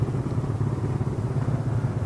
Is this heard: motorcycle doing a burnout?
yes